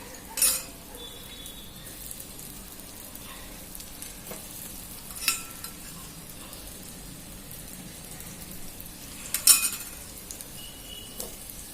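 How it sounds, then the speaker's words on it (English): Falafel balls fry in oil in a pan with a faint, steady sizzle, broken by a few sharp clinks and scrapes of a utensil against the pan. "Now I'll put all the balls in it. Put little more oil"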